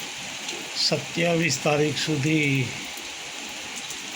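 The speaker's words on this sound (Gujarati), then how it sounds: "ખૂબ જ ભારે વરસાદની આગાહી વચ્ચે વરસાદ અત્યારે વરસી રહ્યો છે." Heavy rain falls in Vasna Jivraj Park, Ahmedabad, a steady wash of hiss running the whole way through while someone speaks over it.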